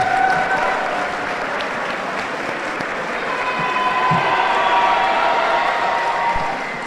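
Crowd applause at a professional boxing event in Farnworth after a six-round bout, a loud, dense, sustained wash of clapping with some cheering from the arena audience.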